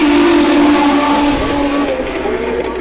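US Legend race cars at Beech Ridge Motor Speedway roaring together off the green flag at the start of a 25-lap race, a loud, dense engine drone with steady harmonic whine that thins slightly as the pack pulls away.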